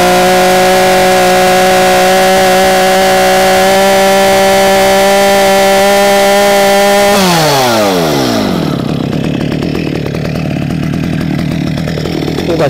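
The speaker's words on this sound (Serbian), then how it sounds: "To uradimo tako što stavimo iznad panja motornu testeru" A STIHL chainsaw idles steadily with a strong harmonic drone, then revs hard over a tree stump as the throttle opens, climbing into a loud, rough, close roar that holds to the end.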